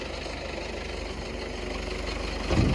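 A farm tractor engine running close by in the field while set to tow a trailer with a loader; a steady, low, knocking idle pulses evenly, then swells briefly louder near the end.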